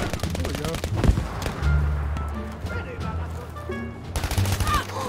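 Rapid bursts of gunfire rattle loudly and close in a Battlefield 5 match near a tank, dense volleys layered over game noise while players talk.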